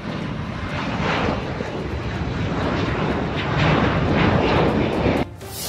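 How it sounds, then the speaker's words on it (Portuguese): A Brazilian Air Force airplane takes off: a loud, sustained roar of aircraft engines swells steadily for several seconds, then cuts off abruptly near the end, leaving a lower background noise. "as imagens do momento da decolagem do avião da Força Aérea Brasileira"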